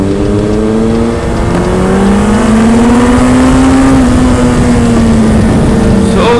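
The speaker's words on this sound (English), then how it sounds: "I'm not even in second gear and the bike is really shooting forward." A 2016 Suzuki Hayabusa motorcycle accelerates hard in first gear, its loud, close engine tone rising steadily in pitch with wind rush throughout.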